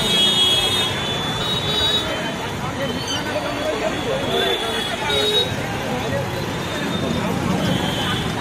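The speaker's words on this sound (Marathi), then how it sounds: "तर गर्दी आणि ट्रॅफिक जाम तुम्ही बघितलं" A traffic jam near a river bridge during a Panjhra river flood, with a steady hum of idling vehicles, scattered horn toots and crowd chatter throughout, while a voice talks over the scene.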